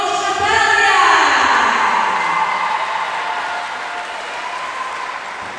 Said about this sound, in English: big round of applause for Tomic Natalia